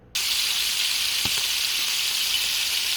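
Chicken thighs brined in pickle and jalapeno juice fry in oil in a pan, starting with a sudden loud, steady sizzle and hiss that continues evenly throughout.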